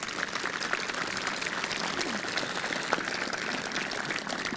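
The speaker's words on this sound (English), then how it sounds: "Would you give them a wonderful round of applause?" A graduation ceremony audience at Sussex Technical High School gives steady, moderate applause for facilities and management staff, with even clapping and no speech over it.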